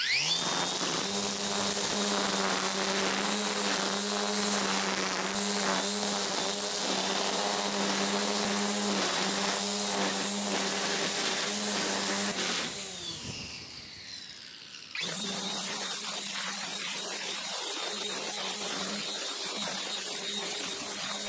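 A SKIL 20V cordless weed eater with a 4 amp-hour battery runs on its high setting, giving a loud, steady, high-pitched electric whine. It cuts out briefly, then resumes, slightly lower in level.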